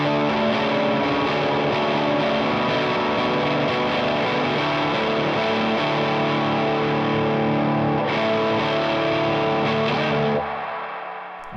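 Distorted electric guitar run through an effects unit with a lo-fi reverb setting, sustained dense chords ringing steadily before the reverb trails fade out over the final second.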